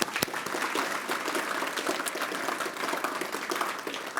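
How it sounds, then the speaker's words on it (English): Applause for the speakers and panelists at a summit session, a continuous, moderately loud clapping from the audience with no talking. "let's now join our hands in applause to all the speakers and panelists who were present today"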